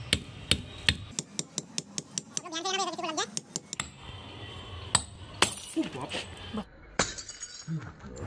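The outer glass of a light bulb is struck repeatedly and broken, giving sharp, close cracks and clinks in an irregular series, with someone talking in between.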